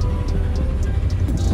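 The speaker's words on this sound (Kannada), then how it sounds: "ಇದು ಗ್ಯಾಸ್ ಟ್ಯಾಂಕರ್" A gas tanker truck passes on the road with a loud, close, rumbling roar of engine and tyres, heavy and continuous throughout.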